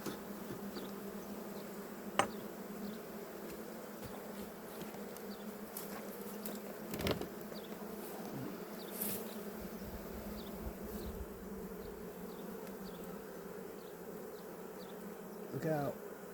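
Honey bees buzz steadily around an opened beehive during a spring inspection, a dense continuous drone close by with a few sharper individual passes and brief knocks.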